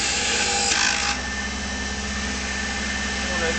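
Wood lathe turning a conical pipe stem while it is trimmed square, a steady close motor drone with a brief brighter scraping cut near the start, then an even hum, no speech.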